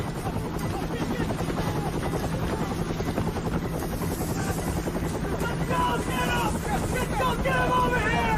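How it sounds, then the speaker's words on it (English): Military helicopters idle and whir at a landing zone in a Vietnam War battle game, a steady loud rotor chop filling the whole stretch with wind-like roar, while voices and shouting rise faintly beneath it. "The men rushed to choppers parked on the old camp's landing zone."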